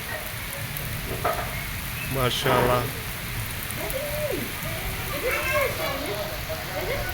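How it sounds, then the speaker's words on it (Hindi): Heavy rain pours down in a village in Sindh, Pakistan, a dense, constant hiss of drops drumming on surfaces close by, with someone speaking briefly over it. "बारिश बहुत तेज़ हो गई है"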